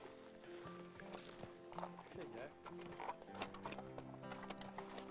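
A young ranch horse walks a trail near the ranch with a rider in the saddle, its hooves clip-clopping steadily under French narration, with a busy, close background of rustling and creaking.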